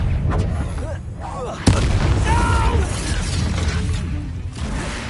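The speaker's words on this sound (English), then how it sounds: "Expelliarmus!" A spell cast in the video game Hogwarts Legacy, a sharp burst landing near 1.7 seconds over a dense, rumbling game soundscape with music and voices throughout.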